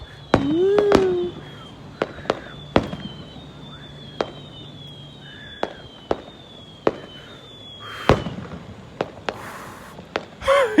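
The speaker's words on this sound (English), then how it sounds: "I'm bringing the fireworks!" Fireworks crack and pop in a string of sharp separate bangs spread irregularly over several seconds, some near and loud, others fainter, with whistling streaks and a few voices in the background.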